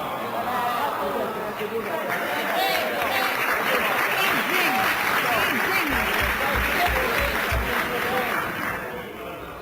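Partisans applaud in a parliamentary chamber, a steady, loud mass of clapping with murmuring voices mixed in, sustained throughout before easing slightly at the end.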